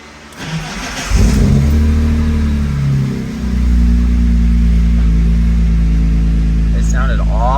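A BMW E46 M3 with a new clutch cranks and fires up, its engine settling into a steady, loud, close idle-to-rev drone that dips briefly then climbs again, with people talking over it.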